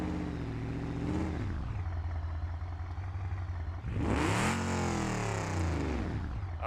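Car engine in BeamNG.Drive revving hard toward 55, a steady droning tone that climbs in pitch around the four-second mark into a loud, strained high-rev wail.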